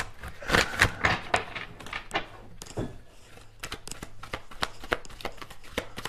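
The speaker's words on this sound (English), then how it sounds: "you guys know I'm shuffling in" Tarot cards shuffled by hand in a quiet room, a rapid run of crisp riffling flicks and soft slaps, pausing briefly before resuming as a steady stream of close, sharp card snaps.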